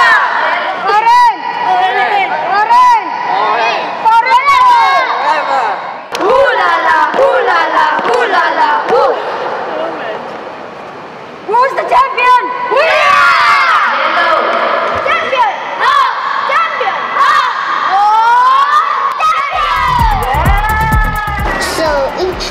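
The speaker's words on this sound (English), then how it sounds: "These junior athletes also taught us to come up with our own team chant to cheer for our teammates." Junior athletes at a combined athletics event shout a team chant to cheer on teammates, a loud crowd of young voices yelling and whooping in bursts throughout, with a rhythmic pounding near the end.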